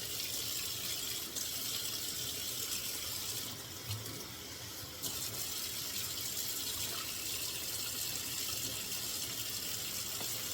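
A hose runs water into wine bottles being washed, a steady, even gush and hiss that stays close and continuous and briefly shifts in tone partway through, with no talking.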